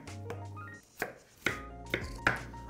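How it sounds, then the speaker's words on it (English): Knife cutting potatoes into roughly 1-inch cubes on a cutting board for mashed potatoes: four distinct, fairly close chopping knocks spaced about half a second apart, moderately loud with no voices. "So I'm just going to cut them into about 1-inch cubes."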